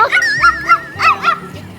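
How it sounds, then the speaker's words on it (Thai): A puppy gives a run of short, high yips and whiny barks, close and loud, repeating in quick bursts with no talk over it. "เฮ้ยน้องเห่ายังไงอ่ะ อ้ยน้องหมาร้องอย่างนั้นหรอ"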